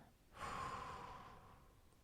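A single strong breath is blown out close to the microphone, a soft rushing exhale that swells and slowly fades over about a second and a half.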